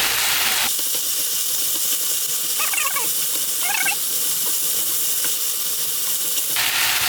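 Pork sizzles steadily while being stir-fried with doenjang and a spoonful of chili powder for a pork jjageuli stew, with a continuous hiss and a couple of brief scraping clatters of a utensil against the pan partway through.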